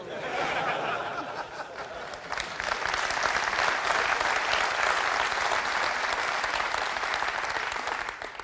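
A DockerCon conference audience bursts into dense, sustained applause, loud and steady throughout with a slight swell partway, mixed with a little laughter from the crowd.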